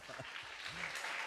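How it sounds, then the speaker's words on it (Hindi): A church congregation claps together at a pastor's sermon, a soft, steady patter of applause heard from a distance. "अभी ताली बजाओ।"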